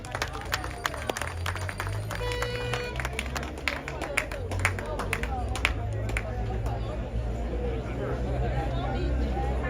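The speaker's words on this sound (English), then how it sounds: "Give her a round of applause." A crowd at a JLP political meeting applauds a party canvasser's 51 years of service, with dense steady clapping and crowd chatter under a voice on a loudspeaker.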